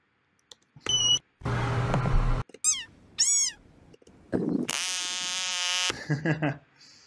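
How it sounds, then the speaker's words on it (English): Recorded frog calls are played back as a music sample: a string of separate bursts, including warbling, rising chirps and buzzy croaks, each followed by a short silence. A few pieces sound harsh and squeaky. "Frog sounds noises."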